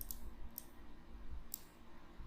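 Computer mouse clicks while working in CLO garment software, a few sharp, faint clicks spaced apart over quiet room hum.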